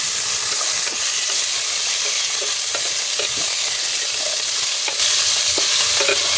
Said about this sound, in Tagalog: magigisa tayo, magagawa tayo ng ulam